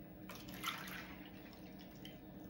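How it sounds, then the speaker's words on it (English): Water runs into a cup as a quiet, steady trickle with a few faint splashy drips, heard alone and close by. "So fill the cup with water."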